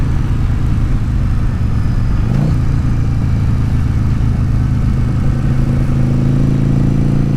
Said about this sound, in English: great engine, and it sounds really good through